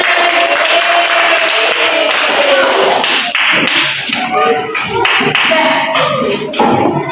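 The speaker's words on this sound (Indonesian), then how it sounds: "Beri tepuk tangan." Audience applauding after a school drama performance, a dense, steady wash of many hands clapping close by for the full length, with a few louder taps and a faint voice in the background.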